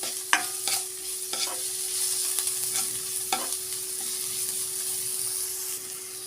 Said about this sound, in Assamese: গাজৰখিনি মই মিহিকৈ কুটি লৈছিলোঁ, আৰু এতিয়া মই এইখিনি খুব ভালদৰে লৰাই লৈছোঁ।